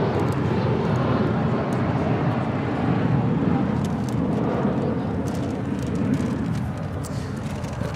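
A Korean Air Airbus A380 pushes back at LAX, a steady broadband jet rumble that stays loud and continuous throughout, with a faint voice underneath.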